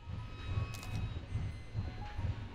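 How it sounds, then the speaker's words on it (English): A train rolling along in the VR game Hot Dogs, Horseshoes & Hand Grenades: a steady low rumble with rhythmic wheel thumps about twice a second and faint squeals, alone and moderately close. "Oh, the train comes to a stop."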